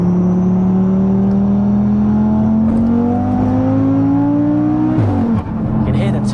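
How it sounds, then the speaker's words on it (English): Audi TT RS tuned to 700 BHP accelerating hard, engine note climbing steadily with a rising turbo whistle, then a gear change; loud and close from inside the car, with voices talking over it. "You can hear the turbo really nicely as well."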